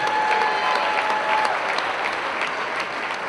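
Arena crowd at a women's college basketball game applauding a senior player being introduced on senior night: steady, full applause held for the whole stretch, loud and unbroken, with no voices standing out.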